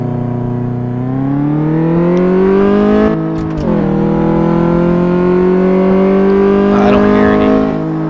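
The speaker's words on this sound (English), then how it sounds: "Test drive this car." A car engine in Car Mechanic Simulator 2014 revs on a test drive, a loud, steady motor whine climbing in pitch with a brief dip midway, continuing strongly to the end.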